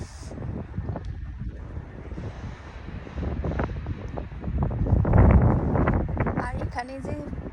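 Light wind blowing by the water at Leeds Dock on a cold, rainy day, a steady rushing noise that swells near the middle of the clip and mixes with faint background sounds.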